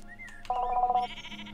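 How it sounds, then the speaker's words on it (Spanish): A sheep bleats in a video game, a short wavering bleat heard over quiet game music, with a brighter tonal call following right after it. "¿Estas ovejas?"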